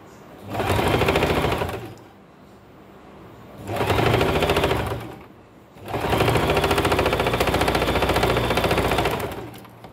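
A sewing machine stitches layered frock panels in three loud, steady bursts of rapid rattling, separated by quieter pauses while the fabric is handled.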